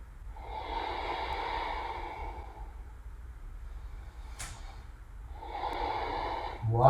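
Slow, deep yoga breathing: two long, airy exhales several seconds apart, close and fairly quiet, with a brief sharp sniff between them.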